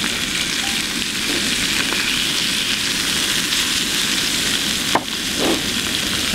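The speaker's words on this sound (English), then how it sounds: "I'm getting a good sear on that." Grouse bacon sears in an oiled pan outdoors, a dense steady sizzle and crackle filling the whole stretch, with one brief scrape of the pan near the end.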